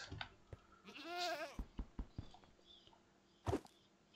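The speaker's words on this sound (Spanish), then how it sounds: "Control de cabras." Goats bleating in Minecraft, one long wavering bleat up close followed by short clicks and footstep-like taps, with a sharp burst near the end.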